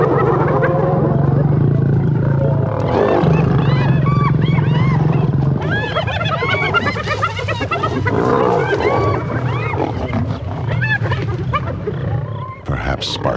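Lions and hyenas fighting over a kill on the African savanna: a dense, loud chorus of whooping, cackling calls and growls throughout, with a narrator speaking over the clamor.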